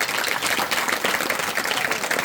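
An audience at a Sankranti celebration claps in a dense, even burst of applause, moderately loud and continuous for a couple of seconds.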